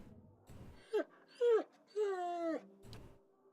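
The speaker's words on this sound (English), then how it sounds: "It looks up when you approach and whines a low note, tail wagging slightly." A black hound in the Pillars of Eternity video game lets out several short, rising whines, then one drawn-out moaning whine, each clear and close with brief pauses between them.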